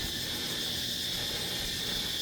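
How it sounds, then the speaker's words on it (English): Loud insect chorus, most likely cicadas, in the jungle on Coconut Island, Phuket, Thailand, as a steady high-pitched buzzing drone that runs unbroken through the whole stretch with no talking. "You can probably hear them cicadas now, or cicadas, whatever you want. They are really loud."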